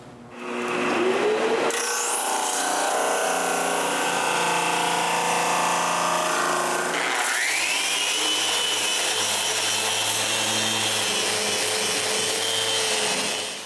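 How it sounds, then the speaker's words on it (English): A power sander works over the wooden frame of a homemade bandsaw, a loud continuous whir with rubbing and grinding, the pitch shifting partway through as the pad moves across the wood. "And since I have the sander in my hand, I can sand away the glue of my last glue up."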